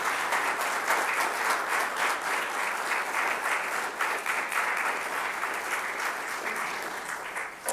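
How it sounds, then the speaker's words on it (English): A crowd at a Veterans Day event gives a sustained round of applause for veterans standing together, steady massed clapping that thins slightly toward the end, with no voices over it. "I'd love to give you guys a round of applause as well"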